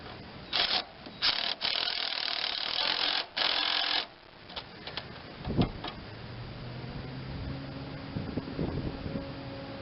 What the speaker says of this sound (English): So I've got that nut tightened up for the steering arm.